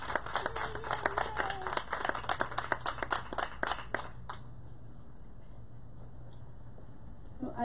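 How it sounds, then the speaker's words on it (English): Applause and clapping at a school ribbon-cutting celebration, a dense burst of many hands lasting about four seconds before cutting off abruptly, followed by quiet room tone. "Another round of applause."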